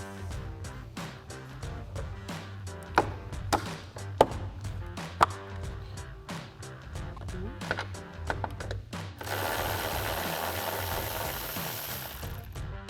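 A socket wrench, 8mm socket, loosens bolts on the grille of a 2015-2017 Ford F150 truck, giving a steady run of sharp ratcheting clicks, close and fairly loud, ending in a louder whirring burst.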